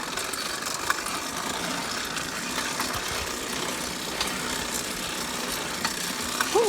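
A small 80cc two-stroke motorized lowrider bicycle engine running steadily, a continuous buzzing drone with faint rattling mechanical clicks, fairly near and alone without talk.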